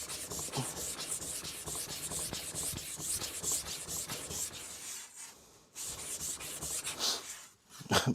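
A katana blade is rubbed back and forth on a King Deluxe whetstone in repeated gritty scraping strokes, close and steady, with a couple of brief pauses between passes.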